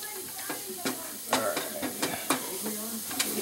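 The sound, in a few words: beer added to hot pan to deglaze, sizzling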